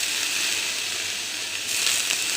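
Water sprinkled into a pan of frying chopped beans and urad dal sets off a steady, loud sizzling hiss that brightens and surges near the end.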